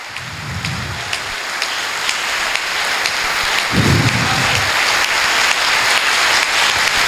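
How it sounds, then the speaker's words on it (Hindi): A church audience applauds loudly and steadily, a dense roar of clapping that fills the whole stretch, with brief low murmurs of voices rising beneath it. "बाइबल मुकद्दस के लिए जोरदार तालियां"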